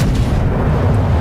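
A continuous heavy boom of naval gunfire in World of Warships, loud and dense, filling the short moment.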